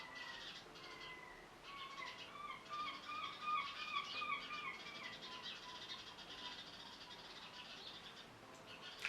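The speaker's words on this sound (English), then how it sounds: "I'm sorry if you can hear the birds screaming outside" Birds chirp and twitter steadily outside in the background, their high calls layered and fairly faint, with no voices.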